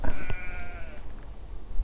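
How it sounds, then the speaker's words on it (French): A single sheep bleats nearby at Lac d'Orient with a long, wavering cry, then the quiet outdoor ambience carries on. "on a des moutons qui sont venus nous rendre visite."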